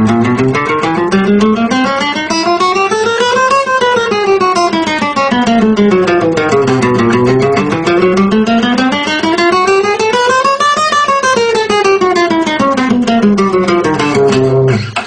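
A guitar plays a fast finger exercise, notes climbing steadily up and back down in repeated smooth runs, clear and continuous.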